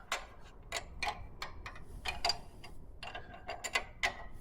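A wrench ratchets in short, quiet clicking bursts while tightening a chain adjuster on a Scag Aerstorm mower, with about a dozen sharp ticks spread unevenly over a few seconds.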